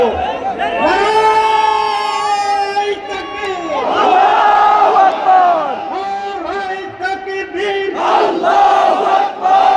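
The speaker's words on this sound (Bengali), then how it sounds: "আপনারা এখন স্লোগান দিয়ে বরণ করে নেব।" A large crowd at a Jamaat-e-Islami workers' rally in Comilla chants slogans in loud, unified, drawn-out rhythmic calls that repeat in waves.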